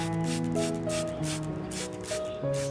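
A spray bottle mists water onto an orchid plant in a quick series of short, even spritzes over steady background music.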